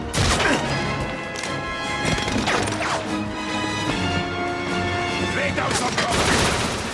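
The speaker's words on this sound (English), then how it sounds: "he was shot in the arm by a sniper rifle" Sniper rifle gunshots in the video game GoldenEye 007 on the Wii, several sharp, loud cracks spaced a second or two apart over metallic game music and clatter.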